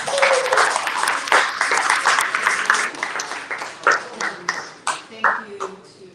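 An audience at a book conference in San Francisco applauds a speaker, a dense burst of clapping that thins into scattered individual claps and fades out, with some voices audible.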